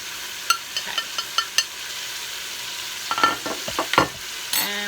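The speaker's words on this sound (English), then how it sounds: "And we're going to mix all those through too." Spices being stirred through chicken in a sizzling pan for butter chicken, with garam masala and garlic powder, give a steady close fry hiss broken by a series of scraping, clinking spoon strokes.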